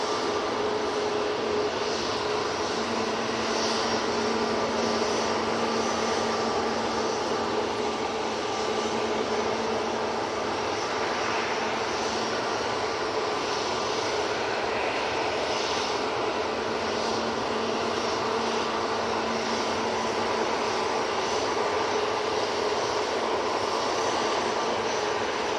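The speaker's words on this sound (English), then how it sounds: "Arini from Guernsey is on final. Well, short final, I should say" An Aurigny airliner from Guernsey on short final to land at Manchester Airport gives a continuous, moderately loud engine rumble with a faint steady whine, sustained evenly for the whole stretch with no talking.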